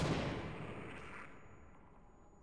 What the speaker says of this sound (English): I'm gonna see if I can just lob a grenade at his ass.